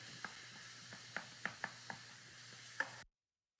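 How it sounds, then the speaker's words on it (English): Ground beef and onion browning in a pan, a faint steady sizzle broken by a handful of sharp spatula taps and scrapes, ending abruptly in silence. "Just brown up our ground beef, our onion."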